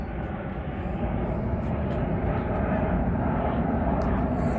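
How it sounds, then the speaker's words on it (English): Airplane descending to land at London City Airport beside the Thames on a June evening, a steady, loud low rumble of engine noise filling the whole clip with no talk. "And a plane coming into land at City Airport."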